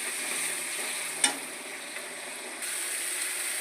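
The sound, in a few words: stir-frying spice paste with Kashmiri chili powder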